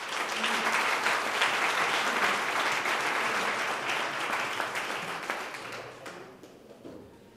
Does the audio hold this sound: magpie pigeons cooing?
no